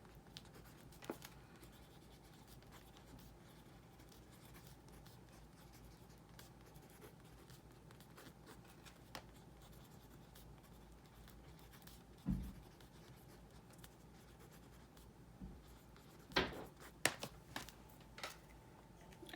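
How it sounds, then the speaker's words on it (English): A pen writes on the pages of a paper journal, giving a faint, steady scratching close by, with a few soft taps and page rustles near the end. "I'm just gonna write that"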